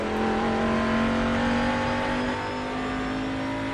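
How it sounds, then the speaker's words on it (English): A Mercedes-Benz CLR race car's V8 engine roars steadily at high revs, loud and continuous, with a slight dip in pitch near the end. "I do like the sound of this V8"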